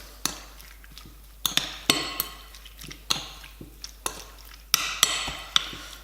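Chicken pieces being mixed with baking soda and cracked pepper in a bowl, with a series of irregular knocks, taps and clatters of a utensil against the dish, close and without talk.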